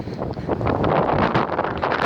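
Strong wind buffets a microphone on an outdoor walking trail, a loud, continuous roaring rumble that swells slightly partway through, with no speech.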